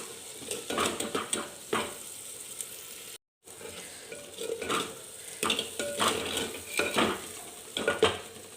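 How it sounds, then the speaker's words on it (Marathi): Vegetables frying in oil in a clay pot, a continuous sizzle with repeated scraping stir strokes and light clinks of a spoon on the pot, pausing briefly midway, with no talking. "तो पण मी व्यवस्थित तेलामध्ये परतून घेते"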